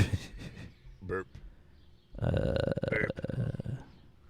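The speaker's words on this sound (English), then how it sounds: "Burp." A loud, drawn-out burp erupts close to the mic after some brief vocal noises, rough and gravelly, and lasts more than a second.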